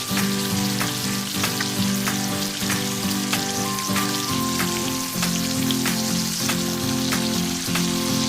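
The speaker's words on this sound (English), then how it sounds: "Stir fry for approximately 30 seconds" Shrimps stir-fried in a wok with oyster sauce, sugar and Shaoxing wine give a steady, loud sizzle with scattered pops and the clack of a spatula against the pan.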